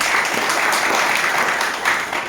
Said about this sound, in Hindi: जोरदार तालियां आप सभी से।